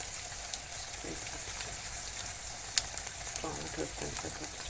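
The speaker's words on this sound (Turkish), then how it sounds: "Evet kavrulan soğanların içine bir kaşık salça kattım." Sautéed onions fry with a spoonful of tomato paste in a pan, giving a soft, steady sizzle with a few faint stirring scrapes and occasional light clicks, fairly quiet throughout.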